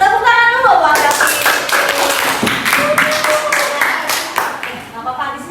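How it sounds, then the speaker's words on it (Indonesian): A classroom claps for Davi, about a dozen distinct claps in quick succession that sound somewhat unison, with voices of students and a teacher talking over and around them. "Tepuk tangan dulu buat Davi."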